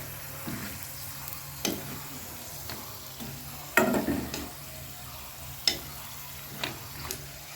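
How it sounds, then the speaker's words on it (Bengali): Raw potato chips frying in hot oil, a soft continuous sizzle with occasional sharp clatters of a utensil against the pan, close by. "এই দেখো আমার চিপস ভাজা রেডি"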